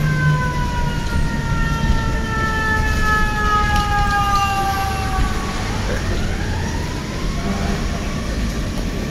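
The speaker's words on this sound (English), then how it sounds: "You hear it? Fire truck." A fire truck siren passing outdoors, its wailing tones sliding downward over a low rumbling background of traffic, fairly loud and steady with no talking.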